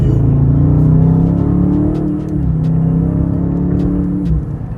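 A Dodge Charger Scat Pack 392 V8 roars up loudly and close, its pitch climbing, dropping briefly as if shifting, then rising again before easing off.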